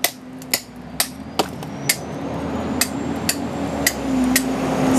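A hammer strikes a chisel against stone while the surface of a sculpture is planed, giving about a dozen sharp, close taps at an uneven, unhurried pace over a faint steady hum.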